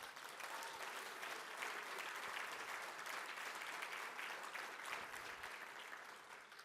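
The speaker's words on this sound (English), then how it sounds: "Can we get a big round of applause?" A conference audience at a union legislative and political gathering applauds steadily, a dense wash of many hands clapping that holds at an even level for several seconds before easing slightly at the end.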